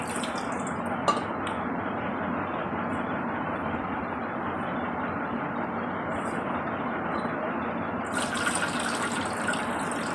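A steady, close stream of water mixed with sandalwood and a tulsi leaf is poured to bathe a small Gopal deity idol during a home puja, gushing continuously with faint splashing and no talk.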